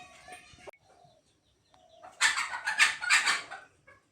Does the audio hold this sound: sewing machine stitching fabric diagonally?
no